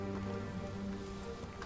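Rain falls steadily over a repaired village hamlet in the Hogwarts Legacy video game, a soft, even patter heard alone and fairly faint.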